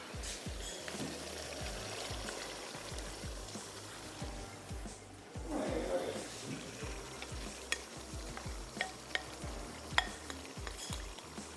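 A spoon stirs chana dal and meat curry in a pot with repeated rhythmic scraping strokes over a soft, steady sizzle. Occasional sharper clinks of the spoon hitting the pot stand out near the end.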